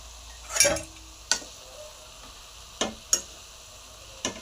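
Spoon stirring chopped tomatoes and salt in a pan while cooking a Marathi vegetable dish. A few sparse, sharp scrapes and clinks sound against a low, quiet background, with no talking.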